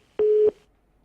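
A single steady electronic tone sounds on a dropped phone line, about a third of a second long, clean and alone against near silence.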